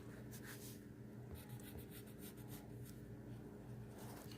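Pencil scratching across paper while marking levels on a lab chart, a steady close soft scraping with short repeated strokes, no talking.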